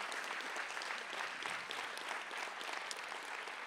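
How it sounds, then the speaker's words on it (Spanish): Church congregation at an Easter retreat breaking into loud, sustained applause, a dense wash of clapping from many hands filling the room. "Un aplauso entonces fuerte a la palabra de Dios."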